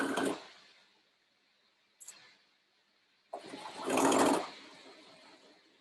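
A sewing machine back-stitches to reinforce a dress shirt corner, heard in short separate whirring bursts, the last one longer and louder, with quiet gaps between.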